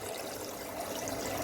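Steady inflow of water into the cooling system at a distillery, a constant close splashing rush that holds even throughout with no voices.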